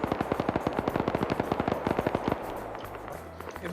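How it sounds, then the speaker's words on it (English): Gunfire and explosions in a multiplayer war video game match: a rapid, evenly spaced string of loud shots, then a rumbling roll of detonations as the shooting stops. "More explosions going off."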